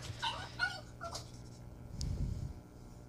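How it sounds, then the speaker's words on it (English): Several dogs whimper and yip in a few short bursts, then let out a lower bark-like sound, all heard indoors at a moderate distance with no talking. "sorry, of course, about my dogs. Maybe I'll let them go outside."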